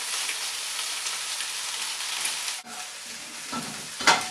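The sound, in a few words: cooled white long grain rice frying for fried rice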